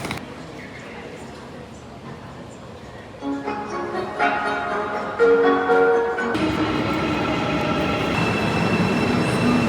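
A clean subway train bound for Seoul Station in Korea rumbles and rises in pitch as it runs, with a whine and rail noise building into a loud steady roar, and people talking now and then.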